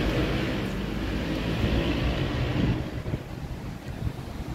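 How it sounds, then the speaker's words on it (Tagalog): Strong wind from Typhoon Kristine buffets the microphone with a loud, steady roar that stays dense for about three seconds, then eases into uneven gusts. "Grabe lakas ng hangin."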